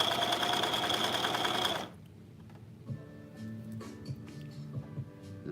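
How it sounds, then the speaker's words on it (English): A cover stitch machine sewing a hem runs loud and steady for about two seconds with a fast mechanical whir, then stops, leaving quieter handling clicks and faint background sounds. "We're just going to use this cover stitch machine and save ourselves so much time."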